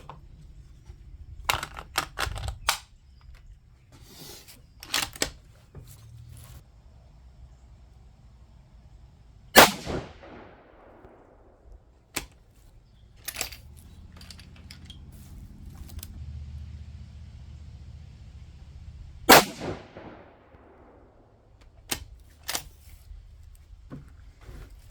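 Two sharp rifle shots from a Mossberg Patriot Predator fitted with an EC tuner brake, spaced about ten seconds apart, each loud and crisp with a decaying tail, amid quieter handling clicks and rustling.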